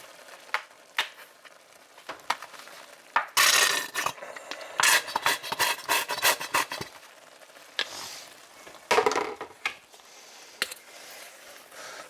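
Ketchup-laced spaghetti sauce stirred in a pot, with a run of close scraping, wet stirring strokes in irregular bursts broken by brief pauses, alone without voices.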